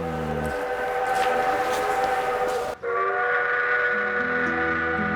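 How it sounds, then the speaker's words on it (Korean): Tourist steam locomotive running along the Seomjin River at Gokseong, a sustained rumbling train with a long, loud multi-tone steam whistle sounding over it, cutting off abruptly midway before resuming. "섬진 강변을 따라 달리는 증기기관차입니다"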